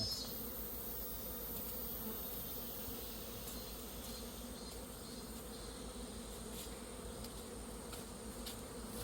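Steady insect buzzing from a large wasp, continuous and fairly close, droning on without a break the whole time.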